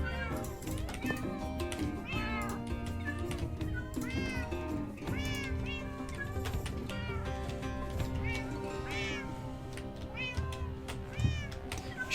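Minecraft cats meowing in a survival world, repeated short rising mews over a busy, steady game backdrop with layered music-like tones, fairly constant loudness throughout.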